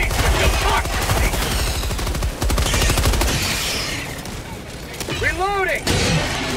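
A machine gun fires in rapid, sustained bursts in the shooter game Helldivers 2, loud and close, with brief pauses between volleys and a voice calling out over the gunfire near the end.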